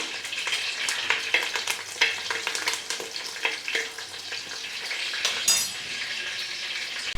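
Green chillies and curry leaves crackle and sizzle loudly in hot oil for a Vizag-style fish curry, with spatula scrapes and clinks against the pan close by and no talk.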